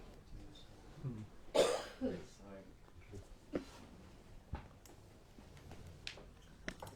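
A single sharp cough sounds nearby, followed by a softer throat clear and scattered small noises in an otherwise quiet room.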